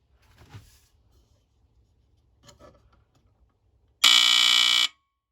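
A loud, shrill electronic beep from a second-generation Firex FXW-1 smoke alarm sounds once for nearly a second after some faint quiet rustling and handling noises.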